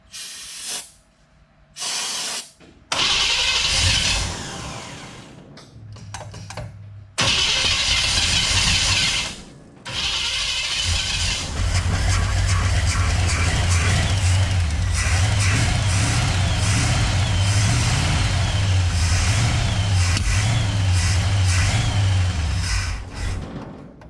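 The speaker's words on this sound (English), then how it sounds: "All right, so a little bit of backfire, but it ran, so it means it will run" Small-block engine in a 1966 Chevrolet C10 cranking in short bursts, then catching with a backfire and settling into a loud, steady rough idle with an airy hiss, close up and with no talk.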